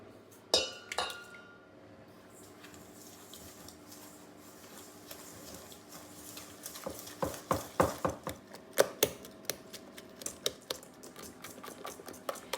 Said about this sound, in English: Add your eggs and golden caster sugar into a bowl and whisk it until it's creamy.